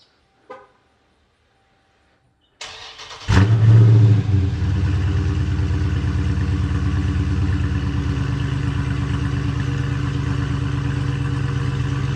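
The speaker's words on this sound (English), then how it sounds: "First cold start with the Blastin' Bob's Reso deletes and the Z Automotive active exhaust" A Dodge Challenger Scat Pack 1320 engine with resonator delete and active exhaust delete cold starts: it cranks briefly, then fires with a loud, deep roar that quickly settles into a steady, rumbling idle. A faint click comes first, and no one speaks.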